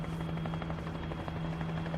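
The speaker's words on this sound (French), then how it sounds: "on entend le bruit d'un hélicoptère au loin" A helicopter drones steadily in a French radio drama, a constant buzzing rotor hum with a low whine that holds evenly throughout, sounding moderately distant.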